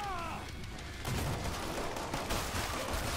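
Rapid bursts of gunfire from a combat shotgun in the video game Killing Floor 2 form a dense, loud barrage from about one second onward, continuous and rattling, following a quieter start.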